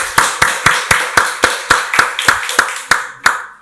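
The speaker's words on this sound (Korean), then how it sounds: "박수로 하나님께 영광 돌리겠습니다" A church congregation at a Sunday worship service applauds in a quick, even rhythm of about a dozen sharp claps, close and loud, with no talking.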